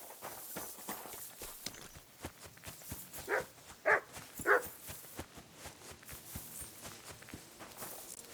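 A dog in the medieval game Kingdom Come: Deliverance II gives three short, sharp barks in quick succession, moderately close, over a soft ongoing patter of footsteps.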